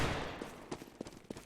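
Gunfire from a wall bang in CS:GO during a competitive CEVO-P match, a run of sharp, separate shots and short bursts at an uneven rhythm over a decaying background rumble, with no talk.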